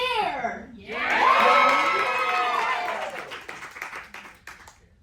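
Crowd cheering and shouting erupts at a staged wrestling match in a theater, a loud sustained roar with high children's voices that builds quickly, holds, then fades into scattered claps and calls.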